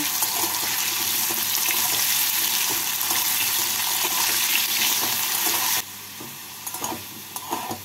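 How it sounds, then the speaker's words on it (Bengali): Potato pieces fry in hot oil in a pan, a steady close sizzle that suddenly drops to a quieter hiss near the end, with a few stirring clinks. "এবার এই আলুর টুকরোগুলো ভেজে নিচ্ছি।"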